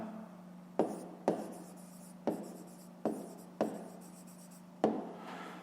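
Pen or pencil writing out a math solution on paper, close and quiet, a series of six short scratchy strokes each starting with a light tap, spaced about half a second to a second apart.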